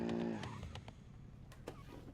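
A car with light steering driving in a racing video game, its engine droning steadily under a few brief clicks and knocks, with a short tonal hum at the very start.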